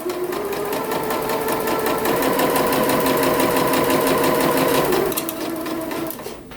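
A sewing machine stitching the curved, split hem of a skirt, a steady rapid mechanical whir with a regular pulse running for about five seconds, then slowing and stopping, close and loud with no talk.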